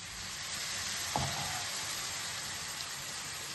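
Egg fried rice sizzles steadily in a hot pan as soy sauce is added, a loud, even frying hiss throughout with one brief clink partway through and no talking.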